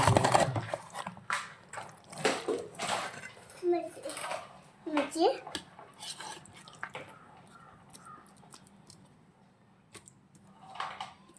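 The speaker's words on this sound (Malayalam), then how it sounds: "നമ്മളെ ബീഫ് നമുക്ക് ഒരു പാത്രത്തേക്ക് ഇട്ട് കൊടുക്കണം" Chunks of beef are scooped with clattering metal utensils into a serving vessel, with several close scrapes and clinks under intermittent speech in a home kitchen.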